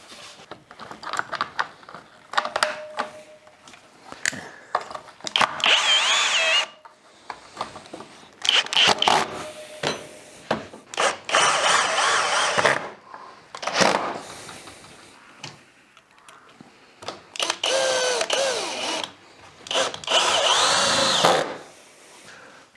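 Bursts of a power drill driving screws into wooden pieces during assembly of a compound lever sawdust press, whirring in repeated short runs of a few seconds with quiet handling noises between them.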